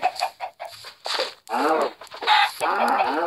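Minecraft chickens cluck repeatedly in the video game, a series of short clucks followed by longer, louder squawking calls, close and fairly loud.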